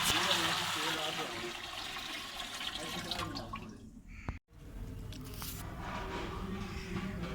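Water being poured into a large pot for brewing Kashmiri tea for a big gathering, a steady broadband rush that continues throughout, broken by one brief pause midway.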